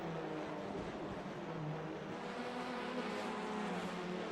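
TCR touring cars race in a video game at Circuit Zolder, including a Honda Civic, and their engines make a steady, dense drone that stays constant throughout with no voices.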